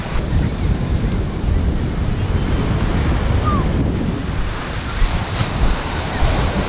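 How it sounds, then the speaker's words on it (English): Ocean surf breaking on a beach at a peninsula with an island offshore at Popham Beach, Maine, producing a continuous loud roar of waves mixed with heavy wind buffeting the microphone and no talking. "So that's the open ocean right there."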